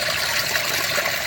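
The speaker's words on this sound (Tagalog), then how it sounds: "Talagang bukal sa ilalim po." Water from an underground spring below a mountain gushes in a continuous, close, fairly loud splashing rush with no voices.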